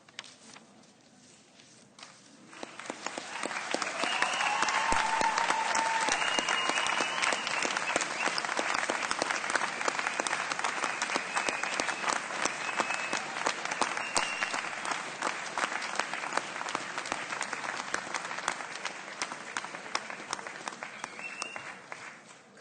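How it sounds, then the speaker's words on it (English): Graduates at a university graduation ceremony applauding their supporters, sustained hall-filling clapping that swells within a few seconds and holds steady, a large crowd with no speech over it. "Graduates, please stand and turn to offer your applause to the people who have supported you through your time at university."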